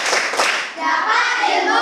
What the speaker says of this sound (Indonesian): Oke, tepuk pulang.